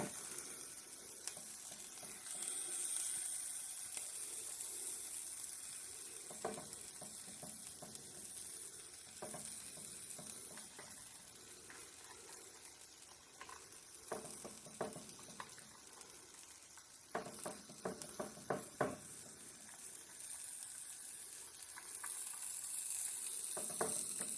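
Black bean and zucchini quesadillas brushed with oil sizzle steadily in a pan, a soft continuous hiss with occasional clinks and scrapes, no talking.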